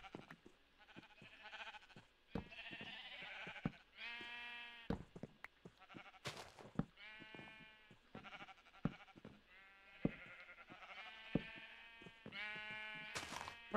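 Minecraft sheep bleating, many separate wavering baa calls at varied pitches, spaced irregularly and fairly close, mixed with soft clicks and footsteps.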